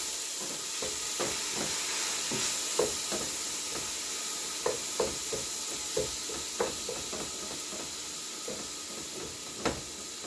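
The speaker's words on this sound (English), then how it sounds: "I'm going to brown this meat for a little bit until everything is cooked through." Ground meat browning for chili in a pan, a continuous hissing sizzle broken by regular spatula taps and scrapes as it is broken up, close and steady with no talk.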